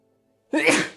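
A single loud sneeze bursts out after half a second of near silence, close to the mic and tapering off, with no talk around it; it is prompted by an allergy to honeysuckle.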